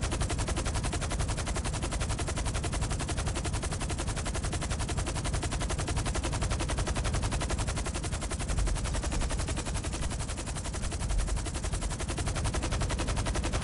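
Video game gunfire rattles on without a break, loud and dense, each shot running straight into the next with no pauses.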